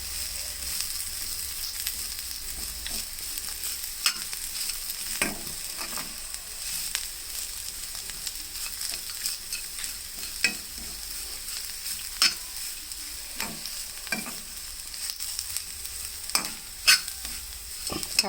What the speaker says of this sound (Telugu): కొంచెం ఎక్కువసేపే కాకరకాయ ఫ్రైని తిప్పాలి కారం వేసినాక